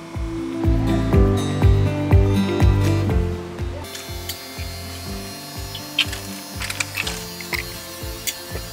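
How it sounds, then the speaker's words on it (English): A stone countertop slab held by suction cups is edged by a routing machine, producing a loud, busy mechanical drone with tonal whirring and rhythmic clunks that gives way to sharper intermittent grinding. "the router just runs the edge"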